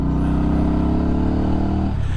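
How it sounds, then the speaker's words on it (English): Benda motorcycle engine revs hard and steadily, a loud close drone climbing in pitch for about two seconds before dropping off as the throttle closes. "it's not like the engine comes alive as it revs out either."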